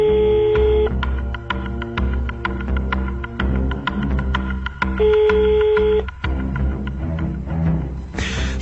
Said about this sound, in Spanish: el teléfono sonaba y nadie atendía.